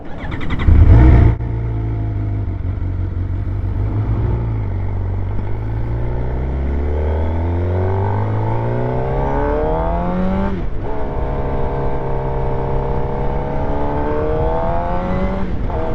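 A 2023 Suzuki GSX-R750 sport motorcycle engine revs hard and close, pitch climbing through the gears in repeated rising sweeps, each shift dropping the tone before it climbs again.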